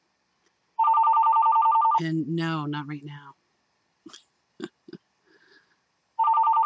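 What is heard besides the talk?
telephone ringing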